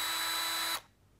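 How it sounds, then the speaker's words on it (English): A metallic pink Makita 10.8 V cordless hammer driver drill whirs steadily at a close, loud level for under a second, then cuts off abruptly and the motor winds down into silence. "This next item I have to show you is the cordless hammer driver drill."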